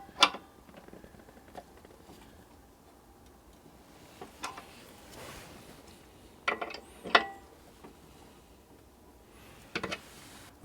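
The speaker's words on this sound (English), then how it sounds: "Now I'm just gonna tighten up these things." Scattered light metallic ticks and ratcheting clicks from a wrench tightening bolts around the brake area of a Hollyburn GS electric scooter, coming in sparse irregular bursts against quiet background noise.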